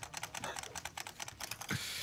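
Rapid clattering keystrokes on a computer keyboard, fast and uneven, close and fairly faint, with no talk, ending in a brief louder burst of noise.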